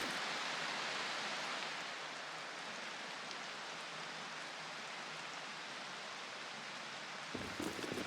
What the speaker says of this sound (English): Sounds like the rain is stopping